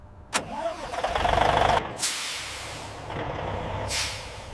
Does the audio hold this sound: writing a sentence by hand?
no